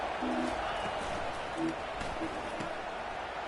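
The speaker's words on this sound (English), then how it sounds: "this big crowd doing everything possible to inspire this defense down here near the goal line" A big football stadium crowd roars steadily near the goal line during a Tulane versus ECU game, a broad distant wash of cheering heard under a commentator's voice.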